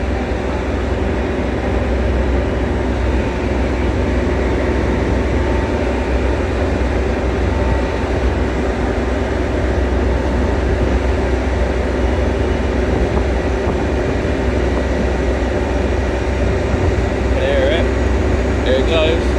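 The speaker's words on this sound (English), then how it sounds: "On the move shortly should be a 12:51 Transpennine Express service from Scarborough" A TransPennine Express Class 802 train, unit 802-209 North Star, working a Scarborough to Manchester Victoria service, pulls away from York station with a steady, loud mechanical hum and rumble throughout, while a voice speaks over it.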